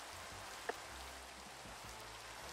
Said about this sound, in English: Why is the rain still on? It's been raining for ages